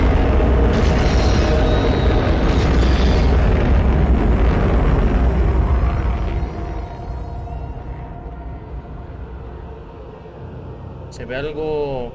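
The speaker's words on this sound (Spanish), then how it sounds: "Cañonazo." Cannon shot in the video game Bayonetta, a loud booming blast with rumbling aftermath that fades over several seconds, followed by quieter game effects and a rising whoosh near the end.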